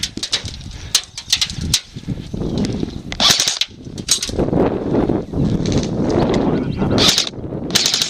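Airsoft guns fire in bursts and single shots during an outdoor skirmish game, sharp snapping cracks near and far amid rustling and movement, with scattered short voices.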